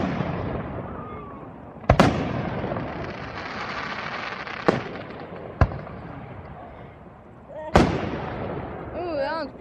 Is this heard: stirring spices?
no